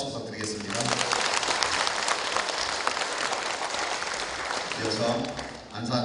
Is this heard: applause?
yes